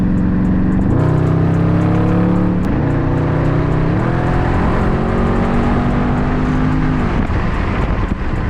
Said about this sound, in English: I'm gonna wait for this car right here to pass by, and then I'm gonna gun it